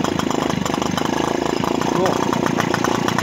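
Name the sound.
Peugeot 205 engine idling after starting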